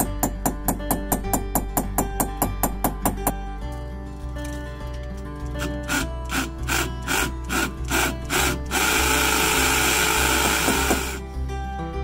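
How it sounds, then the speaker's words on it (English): A power drill boring through timber for a 10mm threaded rod in a DIY lean-to build, heard as a run of rapid clicking bursts, then a sustained loud grinding whir that stops abruptly, close up with no talking. "Then we're going to drill the timber for the 10mm thread size, so the threads can go straight through."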